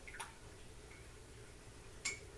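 A paintbrush taps and dips into a jar of water during watercolor painting, two brief faint clinks about two seconds apart over a quiet background hiss.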